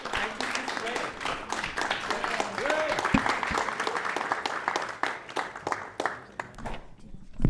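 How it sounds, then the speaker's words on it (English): Concert audience at a jazz evening gives a round of applause, rapid clapping mixed with voices and chatter, fading toward the end as the noise thins out. "give yourselves a round of applause for being such a fabulous audience"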